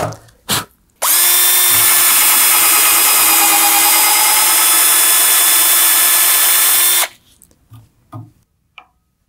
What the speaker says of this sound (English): So let's get to the next size bit and enlarge the hole.